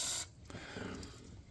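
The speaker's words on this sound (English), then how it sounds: "We're going to spray the bolts in the water pump." A short, close hiss of aerosol spray onto the water pump bolts of a Gen 1 Viper, starting abruptly then fading into a softer rushing hiss.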